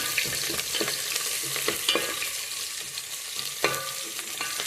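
Chopped onion frying in a pan for aloe vera sabji, a steady close sizzle with occasional stirring scrapes and clinks, no talking.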